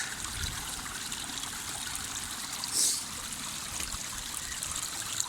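Water runs steadily over a stone being rinsed by hand, a continuous close trickling stream with no talk.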